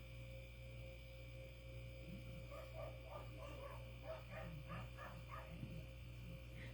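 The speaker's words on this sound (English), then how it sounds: "The doggies outside are talking to each other." Several dogs outdoors bark and yip back and forth in a far, faint series of short calls over a steady indoor electrical hum.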